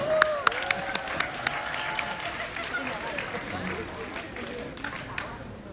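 Scattered applause from an audience at an event stage, with a few sharp individual claps standing out over a busy crowd background and some voices.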